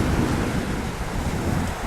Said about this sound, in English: A little bit of a wind,